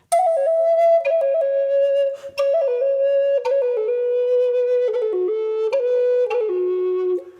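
A breathy wooden flute plays a slow melody, each held note decorated with quick little flicks of ornamental grace notes, solo and close.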